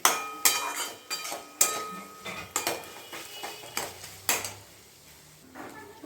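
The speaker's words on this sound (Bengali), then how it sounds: "এই দেখো থালার মধ্যে আমি ঢেলে দিলাম" A spoon scrapes and knocks against a metal pan in a series of sharp clanks as cooked banana flower is tipped out onto a plate, close by.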